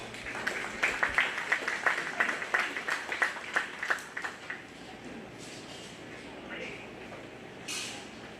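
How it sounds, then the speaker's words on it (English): Audience at a 4-H and FFA county fair swine show gives the exhibitors a short round of applause, a few seconds of scattered clapping in a large open space that quickly fades into quiet background murmur. "Let's give those exhibitors a round of applause."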